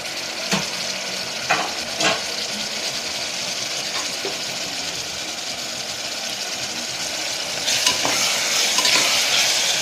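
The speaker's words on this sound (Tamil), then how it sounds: "தக்காளி நல்லா வதங்கிட்டோம்" Tomatoes sauté in a pan for chana biryani, sizzling steadily up close while a spoon stirs and scrapes in repeated strokes. The frying grows louder toward the end, and no one speaks.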